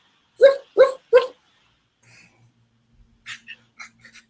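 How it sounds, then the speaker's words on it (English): Three quick, evenly spaced barks ring out close by, followed by a few softer yips and breathy sounds trailing off. "And then you let him bark."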